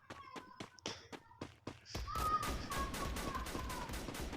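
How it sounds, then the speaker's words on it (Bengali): Rapid bursts of gunfire in the mobile battle game Free Fire, sharp repeated shots at first spaced apart, then a dense continuous volley from about two seconds on, loud and close with no talking. "ওই তো সামনে ফায়ার দিতেছে"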